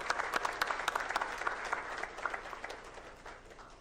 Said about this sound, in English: I think a big round of applause for Professor Sujata in absentia.